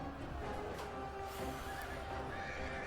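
Horses neigh and whinny amid a busy strategy-game battle, with hoofbeat clip-clop and clashing combat noise mixed in; the whinnies rise loudly over a dense, continuous din.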